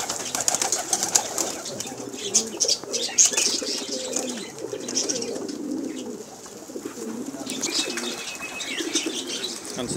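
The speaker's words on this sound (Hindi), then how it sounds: "अंसर भाई के हाथ फैंसी कबूतर जी" Fancy pigeons coo in soft repeated low calls close by, mixed with chirps and bursts of wing flapping over a busy background.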